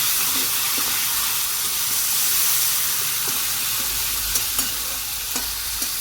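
Katla fish fries in a pan, giving a continuous loud sizzle and steamy hiss up close, with a few sharp spatter pops toward the end and no speech.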